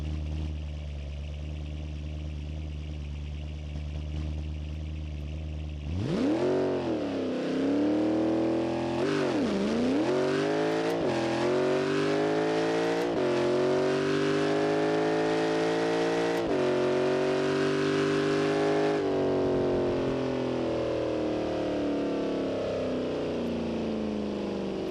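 Simulated car engine in the BeamNG.drive driving game, drag racing on nitrous: a steady drone gives way to loud, rising revs with swooping gear changes, then a long sustained high-pitched pull that slowly falls.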